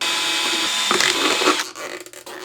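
A power drill whirs steadily, then bites in with a few short grinding bursts before winding down near the end.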